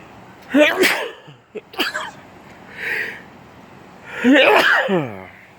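A sneeze inside a police patrol car during recovery of a stolen car, one sharp burst among scattered officer talk and radio chatter, fairly close.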